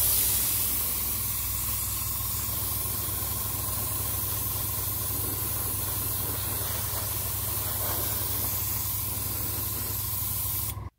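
An airbrush sprays satin paint onto a scratchbuilt starship model, a continuous close hiss with a steady mechanical hum underneath that holds for about eleven seconds and then cuts off.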